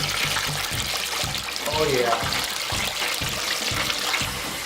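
Chicken frying in a deep fryer with oil at 350 degrees gives a steady bubbling hiss that runs throughout, with a brief spoken remark over it.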